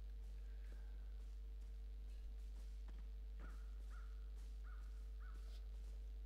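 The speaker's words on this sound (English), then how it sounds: "Who's that bird? Crow?" A crow caws repeatedly in the video game Crowfall, about four faint, evenly spaced calls over a low steady hum with soft footstep-like taps and no talking.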